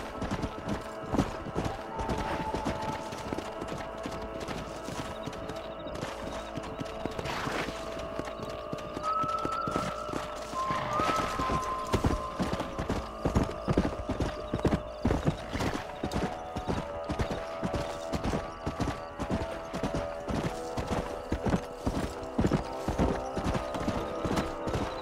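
Horses in the Red Dead Redemption video game clop steadily along with a whinny partway through, the hoofbeats continuous and fairly close amid faint game ambience.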